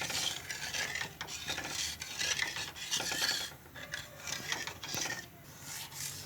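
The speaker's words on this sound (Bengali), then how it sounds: "এটা সব সময় নাড়তে হবে" A spoon repeatedly scrapes and stirs a thickening egg and carrot halwa around a pan, giving rhythmic rasping strokes with a faint sizzle beneath, close and steady with no talking.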